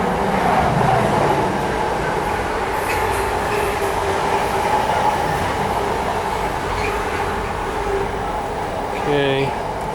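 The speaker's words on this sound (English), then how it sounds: "Wait for the train to go by." A train rumbles past at a steady, loud roar for the whole stretch, with a broad continuous rush of wheels and rail noise close by and a brief clank near the end.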